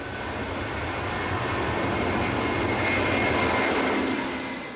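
A Boeing 747 airliner roars down the runway on takeoff, a loud, sustained jet-engine rumble and whine that swells gradually and stays dominant throughout, with no voices.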